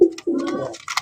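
A black-coloured Rajgolla pigeon coos in a few deep, throaty bursts, close and fairly loud, with a brief pause between the first note and a longer rolling coo.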